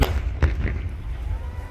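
A gas cylinder bursts with a sharp blast in a truck fire at a gas agency in Bareli, followed by rumbling crackle of the blaze.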